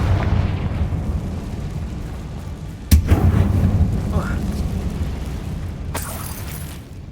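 A magical fire-blast spell in the game Hogwarts Legacy bursts with a sharp boom and rumbling tail, followed by a second crackling burst, over a low ambient game rumble.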